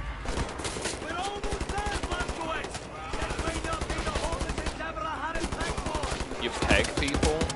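Rapid automatic gunfire from Wolfenstein: The New Order rattles in dense bursts, mixed with game sounds and a talking voice.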